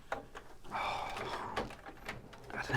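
Plastic doors swinging open on an oversize 17-inch transforming robot toy, a Bumblebee-style figure, giving a few small clicks and scrapes with a brief rubbing sound, close up.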